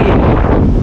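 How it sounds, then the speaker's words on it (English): Wind sweeping across Filey Beach on the seashore, a loud, close, steady rumble battering the microphone for a moment without any voices. "Filey Beach, and it's windy."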